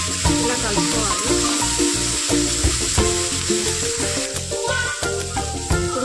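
Potato fry with tomato stirs in a frying pan, a constant sizzle broken by repeated scraping and clanking of a spoon against the pan in an uneven rhythm, close and fairly loud.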